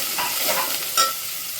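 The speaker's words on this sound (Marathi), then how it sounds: "आणि फोडणी अशी बसली चांगली इथे" A spice tempering sizzles in hot oil in a pan with a close, continuous crackling hiss and a brief louder spit toward the middle.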